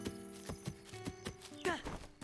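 Horse hooves clip-clop in a horror-style video game, a brisk run of hard, ringing steps close up over a tonal musical backdrop, with a brief whinny-like rising sweep near the end.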